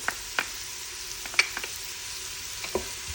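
Ginger and garlic fry in a pan with minced meat and onion, a soft steady sizzle broken by a few light clicks of a spoon stirring, quiet and with no talk.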